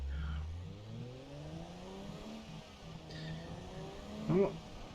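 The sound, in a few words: car engine revving at start, BeamNG video game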